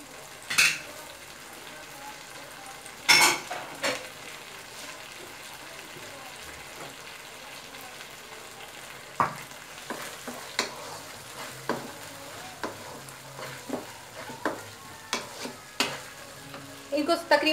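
Chicken Manchurian ingredients stir-fried in a pan with sugar, giving a low, steady sizzle. A spatula scrapes and clatters against the pan in sporadic bursts, growing more frequent toward the end.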